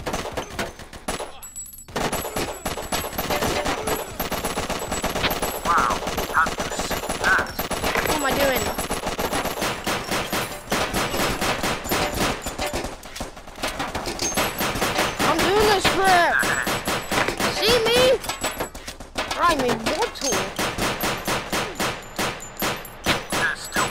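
Rapid automatic gunfire rattles almost continuously in the VR shooter Crisis VR 2, dense bursts with only a brief pause, loud and close throughout.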